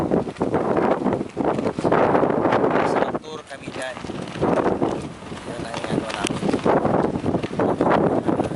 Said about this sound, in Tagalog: Lakas ng hangin, boy.